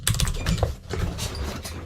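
A short run of key clacks on a Das Keyboard computer keyboard, close and fairly soft, in an uneven rhythm with no talking.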